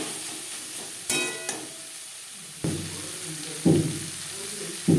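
Onion, tomato, salt and turmeric being stirred in a pan for a puti fish curry, a soft continuous sizzle punctuated by a few distinct spatula scrapes and knocks, without any talking.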